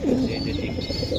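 Racing pigeons coo in low, soft, rolling calls, close by, with a few faint higher chirps mixed in.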